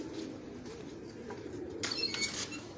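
Pigeons cooing with a low, steady murmur of calls under faint background noise, plus a brief brighter rustle toward the end.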